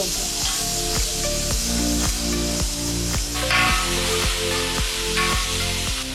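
Onion paste for fish curry sizzles loudly in a pan, a dense steady hiss with rhythmic stirring scrapes and faint clinks running through it.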